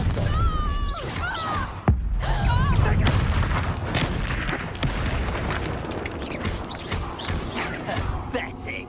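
Depulso repulsion spell cast during a Hogwarts Legacy duel, a burst of booming, crashing impacts amid ongoing combat effects, dense and loud throughout with game voices underneath.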